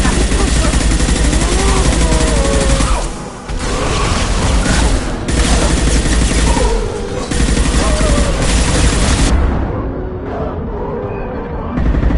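Heavy weapons fire in Mass Effect 2, loud and continuous bursts of gunfire with brief drops in the volley before it cuts out, leaving a quieter tail.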